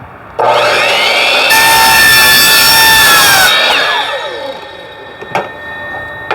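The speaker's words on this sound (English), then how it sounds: "So I got the chop saw out to cut it at 45 degrees ish." A chop saw slices through a plastic bucket at roughly a 45-degree angle, its loud high-pitched whine and grinding cut lasting a few seconds before spinning down, followed by a couple of faint knocks.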